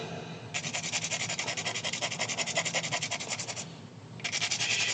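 Coarse sandpaper scraping pencil graphite into a small cup, a close, loud run of rapid rhythmic rasping strokes that pauses briefly near the end, then resumes.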